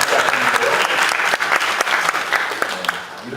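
A church congregation claps together at a Sunday worship service, a dense, steady burst of applause filling the room for a few seconds.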